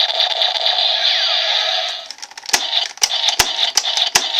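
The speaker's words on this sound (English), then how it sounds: "you can actually switch between the blasting sound by having the switch pressed and the final attack ride sound" A DiEnDriver toy's electronic sound effects: a sustained buzzing blast tone fades after about two seconds, then a string of sharp clicking hits and chimes from the final attack ride sequence, loud and close.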